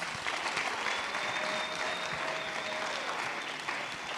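An audience at a youth empowerment weekend event applauds as a panelist is introduced, a steady, dense wash of clapping sustained throughout with a faint tonal whine running underneath.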